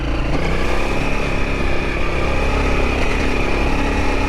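Off-road motorcycle engine at low RPM in first gear, cruising on slippery clay trail in Wayne National Forest, a steady continuous drone that stays loud and close throughout without revving.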